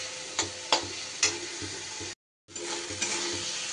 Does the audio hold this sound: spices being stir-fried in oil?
yes